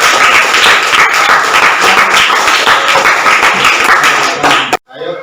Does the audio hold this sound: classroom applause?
yes